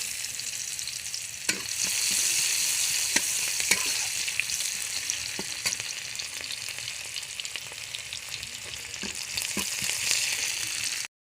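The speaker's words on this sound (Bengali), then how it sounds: "মাছ ভাজা ওই তেলে পেঁয়াজ কুচি দিয়ে দেবো।" Chopped onion frying in the oil left from frying silver carp, a steady close hiss of sizzling with scattered crackles and occasional stirring clicks throughout.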